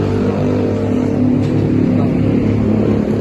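A loud, raspy motorcycle engine with a cheap exhaust revs close by, a rough buzzing drone that swells slightly partway through.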